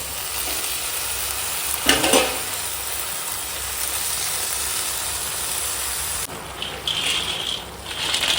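Chopped spinach hits a hot pan and fries with a loud, steady hiss and sizzle, a brief crackling burst early on, then a stir that briefly changes the texture near the end.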